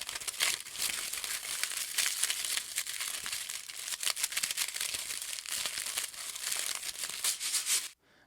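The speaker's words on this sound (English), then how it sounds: "And then some tin foil." Tin foil is crumpled and crinkled continuously at close range, making a bright, crispy crackling with frequent sharp bursts for about eight seconds before it cuts off suddenly.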